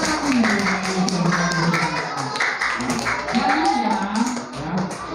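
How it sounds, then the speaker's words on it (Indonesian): Students clap in a classroom after classmates recite a Quran surah, a dense patter of small hands running steadily throughout while children's voices talk and call out over it. "Tepuk tangan dulu teman-teman."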